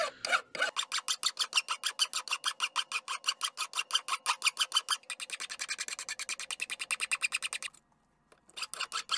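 A hand file rasps across a hand-forged steel blade in quick, even back-and-forth strokes, loud and close, keeping a steady rhythm before a short pause and a few final strokes.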